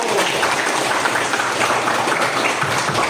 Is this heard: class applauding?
yes